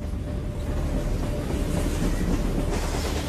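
A heavy-haul coal freight train on the Datong line north of Beijing rolls past in a loud, continuous rumble, wheels clattering steadily on the rails throughout.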